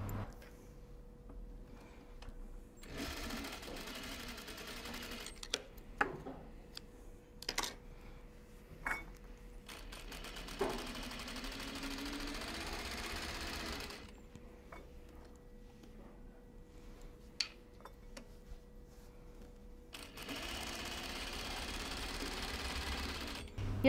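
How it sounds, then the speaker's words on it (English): Sewing machine stitching the center back seam of a coat, quiet runs of rapid mechanical whirring in three separate bursts, with soft clicks and handling noises between them. "Next, I'll stitch the center back seam."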